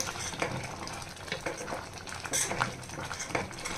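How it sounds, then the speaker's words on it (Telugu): A metal ladle mashing cooked moong dal in a pot, soft irregular scraping and knocking clinks against the vessel, fairly quiet and close, with no talking. "ఒకసారి ఈ గరిటి పెట్టి ఇలా మెదిపేస్తే సరిపోతుంది"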